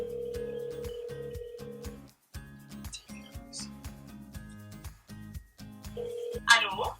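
A telephone ringback tone sounds while calling someone back during a prank phone call. A steady electronic tone plays for about two seconds, then briefly again near the end, over rhythmic background music.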